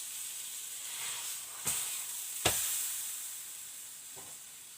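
Kastamonu meat flatbread (etli ekmek) cooking, heard as a steady soft sizzle and hiss with two sharp clicks or knocks close together and a fainter tap near the end.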